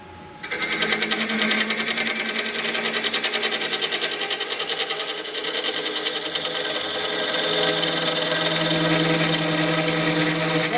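Continuous high, buzzy mechanical whine with a fast rattling chatter, steady and loud throughout, like a tool bouncing against spinning spalted oak on a wood lathe.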